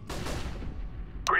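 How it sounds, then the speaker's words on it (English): A flashbang grenade going off in a Counter-Strike match, one sharp loud burst that decays over about a second, followed by a brief high metallic ring at the end. "Deploying flashbang."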